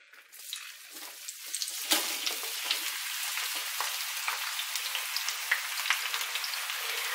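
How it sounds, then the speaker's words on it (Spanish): Onion strips cooking over medium heat in hot oil in a frying pan, giving a continuous bright crackling sizzle that starts up sharply and keeps going close by. "en una sartén voy a poner aceite y a fuego medio voy a empezar a pochar la cebolla"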